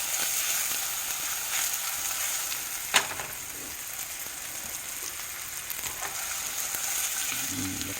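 Great Value Vermont maple sausage fries in a pan with a steady, close, crackling sizzle, broken by a single sharp tick or pop near the middle and a few quieter clicks, with no talking.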